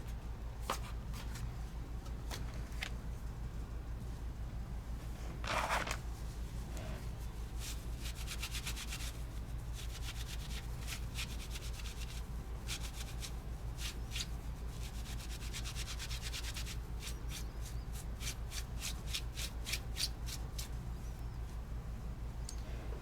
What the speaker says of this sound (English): I'm going to clean the stamp up